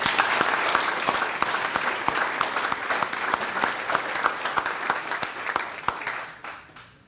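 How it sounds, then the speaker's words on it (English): Applause from an audience at a Hoover chamber of commerce gathering, with many hands clapping and some sharp individual claps standing out, steady at moderate distance before fading away at the close. "Let's give another round of applause."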